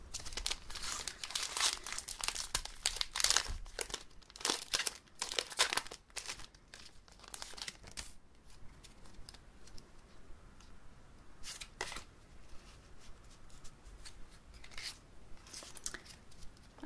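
Pokémon Sword and Shield booster packs being torn open, with repeated sharp crinkling and ripping bursts of foil wrapper, close and crisp, thinning to softer rustles toward the end.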